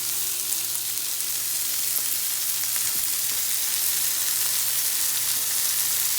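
Cabbage fries in a pan with a steady, dense sizzle that holds evenly throughout, close and fairly loud, with a low hum underneath and no talking.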